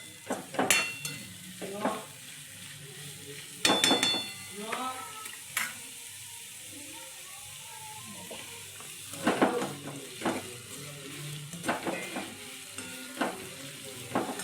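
Carrots and cauliflower frying on a high gas flame for pulao give a steady soft sizzle, broken by repeated scraping, clattering stirs of a spoon against the pan at irregular intervals.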